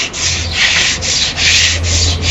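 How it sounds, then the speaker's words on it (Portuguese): Wood hand-sanded along the grain with sandpaper, close rhythmic rasping strokes, about four back-and-forth passes in a steady scratchy pattern. "O ideal, a madeira, é sempre lixar na direção do veio."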